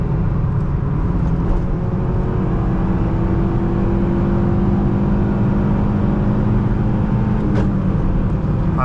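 A 2015 Honda Civic LX with a five-speed manual, heard from the cabin as the engine revs high while driving, a loud, steady whirring drone that holds near the top end.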